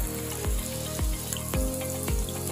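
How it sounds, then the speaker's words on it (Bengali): Two chopped onions with a pinch of salt sizzle steadily in a pan, with a stirring scrape sweeping through roughly every half second; continuous close frying hiss, no talk. "এটা ভালো করে মিক্স করে নিচ্ছি। পেঁয়াজটা হালকা ব্রাউন হওয়া পর্যন্ত ওয়েট করতে হবে।"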